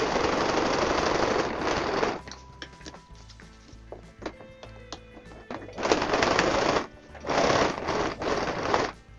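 A sewing machine stitches a zigzag seam in bursts of rapid, buzzing needle chatter, close and fairly loud, separated by pauses filled with small clicks and handling of fabric.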